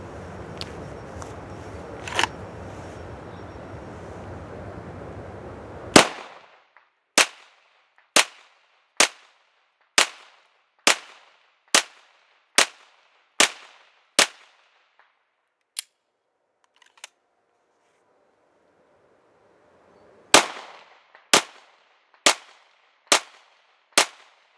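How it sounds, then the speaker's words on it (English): Pistol shots from a 9mm handgun firing Winchester 115 grain FMJ rounds at a range, fired at about 30 feet: a long series of sharp, evenly spaced cracks, then a pause and a final quick volley of five shots. "we're about 30 feet now, and we're going to try to shoot consistently in the head"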